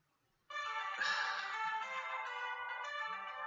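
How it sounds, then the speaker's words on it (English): A phone ringtone plays loudly and steadily from about half a second in, a sustained bright electronic tone that continues alone to the end with no talk over it. "My phone's ringing."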